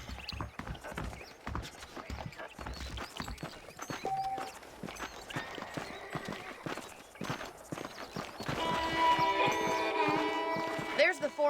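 Rhythmic hoof clip-clops of a walking horse in a video game under speech and background music, steady and moderately close.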